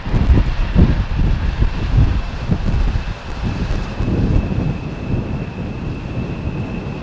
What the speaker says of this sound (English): First is Embraer inbound from Inverness.